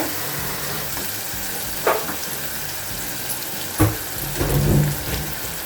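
Onions with tomatoes frying in a pan for Kempu Chitranna, a steady sizzle with a few louder stirring scrapes and splashes near the end, no talking.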